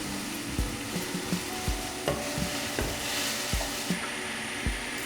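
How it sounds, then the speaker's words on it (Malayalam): Masala sautéed in a pan for chicken kurma: a steady loud sizzle with a spoon repeatedly scraping and stirring through it, close up, in rhythmic knocks roughly every half second. "ഇതിൻ്റെ പച്ചമണം പോണ വരെ വഴറ്റിയാൽ മതി"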